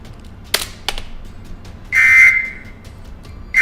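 Kodachi OS 8.7 sounds a sharp electronic alarm tone when the VPN process is killed: a steady high beep sustained for about half a second, then cut off and briefly repeated at the end, with faint clicks before it.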